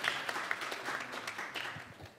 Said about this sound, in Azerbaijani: Sənan, alqışlayaq.